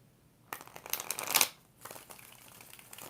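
Tarot cards are shuffled by hand in two bursts of rapid riffling flutter, the first louder and ending in a crisp snap, the second softer and longer, close up with no talk.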